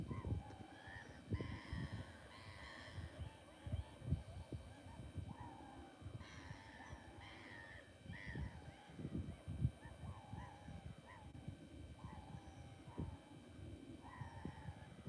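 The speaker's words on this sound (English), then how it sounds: "Birds are having fun in the background, aren't they?" Geese honk repeatedly in the background at a fishing lake, a busy chorus of nasal calls over a steady rumble of outdoor noise.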